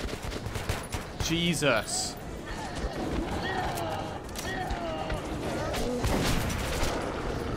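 Gunfire in Metro 2033 Redux, rapid bursts of shots crackling across the scene amid other game sounds, with someone talking over the shooting at moderate distance.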